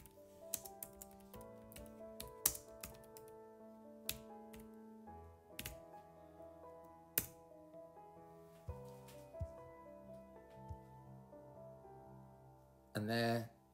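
Scattered, quiet Bluetooth keyboard taps on an iPad click irregularly over soft background music, with short bursts of keystrokes and pauses between them.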